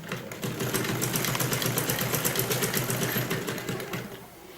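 A sewing machine stitches the hem of a salwar, a fast, even rattling chatter that runs close and steady for about four seconds before slowing to a stop, with no voices over it.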